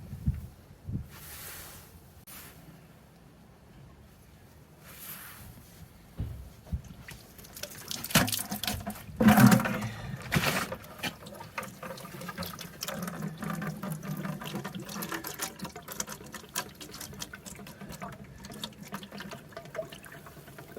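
Old coolant draining from the thermostat housing of a Bobcat 463 skid steer loader into a bucket, a splashing pour that swells partway through and keeps trickling steadily, with clanks of handling and no speech.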